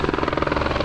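Police helicopter overhead at a chaotic street scene after a shooting, its rotor thudding in a fast, even, loud beat that holds throughout the short stretch, with no voices.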